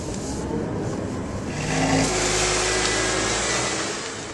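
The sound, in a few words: 2011 Lamborghini Gallardo LP570-4 Superleggera driving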